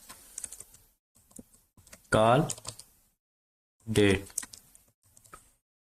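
Computer keyboard typing while working in a Microsoft Access database, light quick clicks spread through the clip between bursts of voiced sound, with brief quiet gaps.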